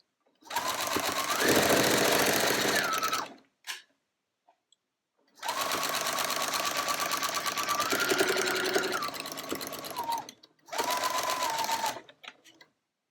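A sewing machine stitches quilt strips in three loud, steady bursts, each a continuous whirring run, with short pauses between them and no talking.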